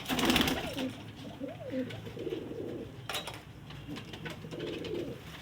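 Pigeons coo softly and repeatedly nearby, low throaty calls over light background rustling and a few sharp clicks.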